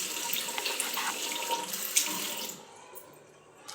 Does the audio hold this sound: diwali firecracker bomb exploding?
no